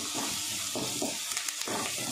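A bunch of curry leaves hits hot oil in a pan with softening onions, giving a moderate sizzle with bursts of crackle and spattering over a steady hiss, no voices.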